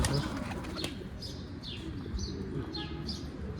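Young pigeons kept in a garden coop, with soft cooing, brief wing flaps and chirps over a steady low background rumble, moderately close.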